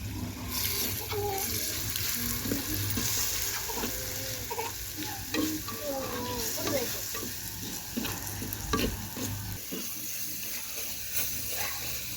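Tomatoes sautéing with ginger-garlic paste in a pan for chana usal masala, a steady close sizzle with repeated scraping and stirring strokes throughout, some watery bubbling beneath, no voices.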